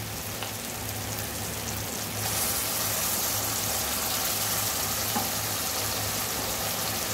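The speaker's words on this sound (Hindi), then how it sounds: "अब इसमें हम लोग डाल देंगे अदरक लहसुन का पेस्ट" Ginger garlic paste hitting vegetables in a hot pan on high flame, a dense, steady sizzle and frying hiss that grows louder partway through and then holds, with no voices.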